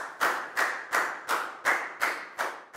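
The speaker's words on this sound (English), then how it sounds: "a big round of applause for everyone" In a Year 4 classroom, a single pair of hands claps about eight times in a steady, even rhythm, each clap sharp and close with a short decay, and no talking.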